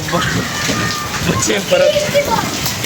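Hailstones drum down with heavy rain in a storm in Lahore, a dense continuous clatter with people talking over it.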